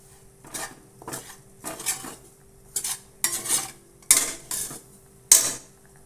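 Ghee being added while flour is stirred in a pan on a gas stove, a series of sharp metallic scrapes and clinks of a spoon against the pan, repeating roughly once per second and growing louder.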